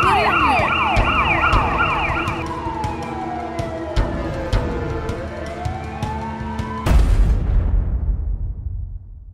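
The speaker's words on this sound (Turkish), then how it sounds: "Evet, ambulans geldi." An ambulance siren wails close by at night, first in rapid alternating tones, then sweeping up and down, before a sudden loud thump; no talk over it.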